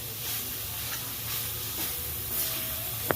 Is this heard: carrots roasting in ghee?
yes